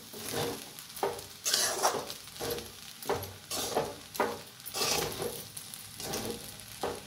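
Potatoes and salt roasting in a pan for sabudana khichdi are stirred with repeated rhythmic scraping strokes over a soft background sizzle, fairly quiet and close.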